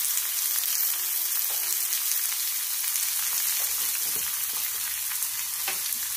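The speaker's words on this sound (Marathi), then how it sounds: "आता तेल तापायला ठेवलंय, थोडेसे जिरे, थोडेसे मोहरी आणि डाळ कांदा करायचा म्हटल्यावर कांदा जास्त घालायला" Cumin and mustard seeds sizzle with onion in hot oil, giving a continuous close crackling hiss with scattered pops and faint stirring, heard alone without voices.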